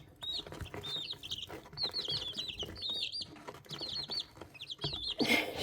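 A chicken clucks and chirps in short bursts close by, with faint scuffing as it pecks at a person's hand on a farm.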